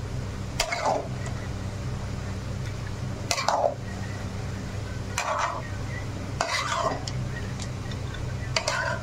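Basanti pulao with ghee-fried cashews and raisins is stirred gently in a pot, with five or six distinct scraping strokes spaced a second or two apart over a low, steady background hum.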